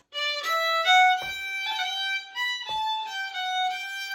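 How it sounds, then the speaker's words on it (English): A solo fiddle plays a short phrase in Donegal style decorated with long rolls, quick grace-note flicks around sustained bowed notes, clear and close. "the long roll sounded like this"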